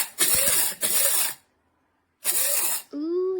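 A Kaffè one-touch electric coffee grinder runs in short bursts on coffee beans, giving two quick loud whirring pulses, a pause, then a third pulse, and ending in a ringing metallic whine.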